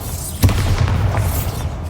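A Bombarda spell explosion in Hogwarts Legacy, a single short boom that hits loud and close, then fades into a rumbling tail.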